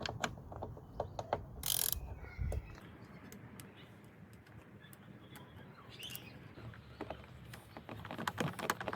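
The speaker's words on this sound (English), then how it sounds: "Just gonna go over again with the torque." Torque wrench ratcheting in short, fairly quiet clicks while bolts on a VW Golf door mirror are tightened, with a brief louder burst of mechanical noise near the start.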